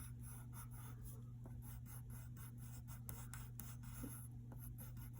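Pencil shading on paper while darkening the eye in a drawing of the cartoon character Timmy Turner, a faint, steady scratchy rubbing with quick repeated strokes over a constant low hum.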